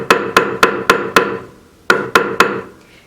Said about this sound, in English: So I've got my end on the ring mandrel and I'm just going to hammer that around.